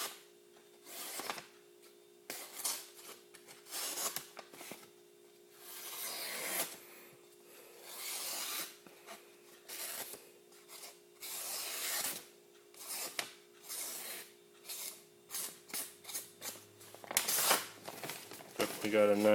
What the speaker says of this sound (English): a little bit of a cut test if this paper is not too damp